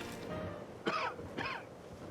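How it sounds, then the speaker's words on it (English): A character in the video game Blue Dragon coughs twice in quick succession, two short, rough, throaty bursts about half a second apart over a low ambient game backdrop, with no speech. "there is that coughing I heard."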